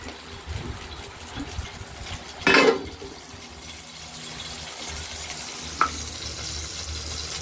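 Bay leaves drop into hot oil in a wok, setting off a sudden loud crackling burst that settles back into a quieter steady sizzle.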